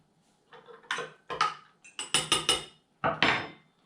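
A spoon clinks against a glass while stirring Metamucil, giving a series of bright, close taps in uneven clusters with short pauses between them and no talking.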